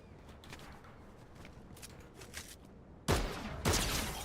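Gunfire in the video game Fortnite: two sharp, loud shots near the end, following a stretch of quieter, scattered distant popping and rustle.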